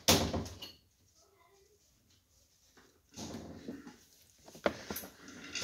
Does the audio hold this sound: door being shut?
yes